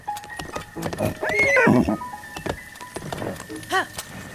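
A horse in Legend of Zelda: Breath of the Wild whinnies loudly with a long, wavering neigh, followed by a shorter snort-like whinny, over a steady game-like background hum.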